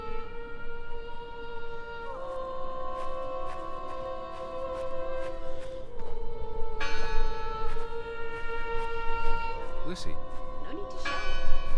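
Church bell tolling inside the video game Draugen, a steady ringing with repeated strikes and long sustained tones over the whole stretch, while a voice speaks briefly in the middle.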